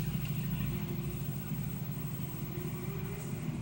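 A car engine in the video game Gran Turismo 6 idles steadily with a low, continuous rumble, close and even, with no talking over it.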